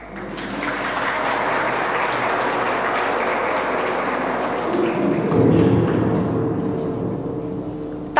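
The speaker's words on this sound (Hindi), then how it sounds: "Please give a big round of applause" Audience at an institute event applauds steadily, a dense even wash of clapping that runs throughout and swells slightly near the end.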